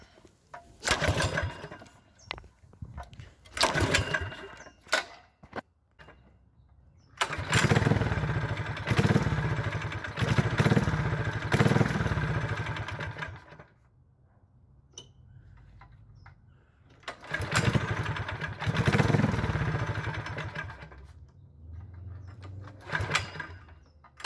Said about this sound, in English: she only runs with the choke on, and if I give her a little bit of throttle